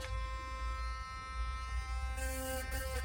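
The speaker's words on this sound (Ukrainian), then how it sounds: "Вперше в моєму житті я буду користуватися електричною зубною щіткою." An electric toothbrush, new and bought on Amazon, runs continuously with a steady high-pitched buzz, close and constant, its tone shifting slightly near the end as if pressed against teeth.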